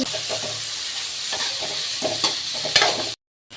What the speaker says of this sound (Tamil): இப்போ வந்து வெங்காயம் வதங்கி முடிஞ்சிருச்சு.